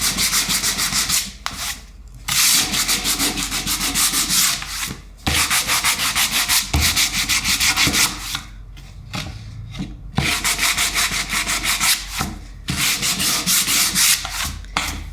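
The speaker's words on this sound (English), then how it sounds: "And this is a sanding block," Rhythmic back-and-forth rasping of a sanding block rubbing across a painted crackle-finish wood surface, strokes repeating steadily with short pauses between bursts.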